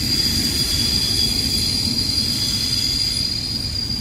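Train wheels squeal and grind against the rails on a curve near Ban Pong, a steady high-pitched metallic screech over a continuous low rumble of rolling railcars.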